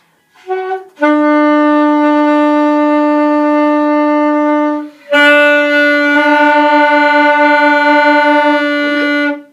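A saxophone sounds a short B natural, then holds a long steady tone, pauses, and sustains it again, loud and close with no other sounds.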